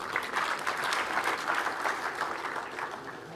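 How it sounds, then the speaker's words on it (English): Audience applause at a morning session of the Kenya School of Government centenary event, with many hands clapping steadily at moderate volume. "Not handshake, but hand clap."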